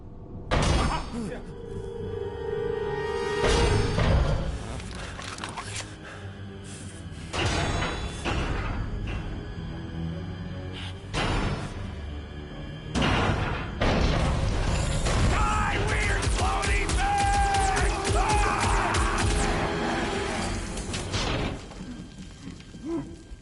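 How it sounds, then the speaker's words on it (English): Mechanical clattering, ratcheting and thuds from a swarm of old cleaner robots in the Guardians of the Galaxy video game, bursting in repeated busy waves with game voices talking over it. "It's a swarm of old cleaner bots."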